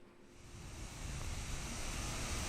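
A waterfall in Costa Rica, captured on a GoPro, pours as a steady, dense rush of broadband water noise that swells slightly louder over a few seconds, with no voices.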